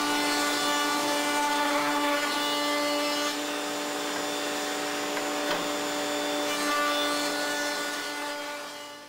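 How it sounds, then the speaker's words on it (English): A router table fitted with a 1/4-inch round-over bit shapes the edges of wooden tenon stock, a loud, steady high-pitched whine with a slight rise in cutting noise midway, then winding down at the end. "We're going to do that on the router table with a 1/4 inch round over bit on all four edges of each piece of tenon stock."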